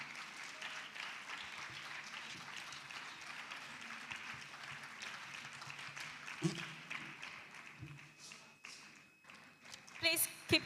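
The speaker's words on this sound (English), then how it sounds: "Please, let's put our hands together as we welcome her." Sustained crowd applause at the Girl Child Summit 2023 greets the moderator, a dense wash of hand claps with voices mixed in, easing off toward the end with a few louder isolated claps.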